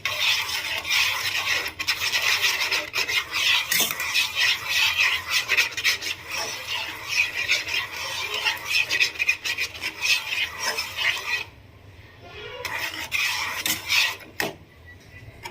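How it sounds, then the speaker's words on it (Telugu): A utensil steadily scrapes and stirs caramel custard mixture in a pan on the stove, making continuous close metallic scraping with a brief pause near the end. "మనకి థిక్ కన్సిస్టెన్సీ వచ్చేంత వరకు కూడా కలుపుకుంటూ ప్రాసెస్ని చేసుకోవాలి."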